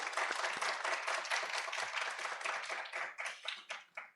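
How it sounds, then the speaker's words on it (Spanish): Welcoming applause from a lecture audience greeting a speaker on artificial intelligence, a fairly faint, crackly wash of many hands that thins into scattered claps by the end. "Les pido un aplauso, por favor, para él, de bienvenida."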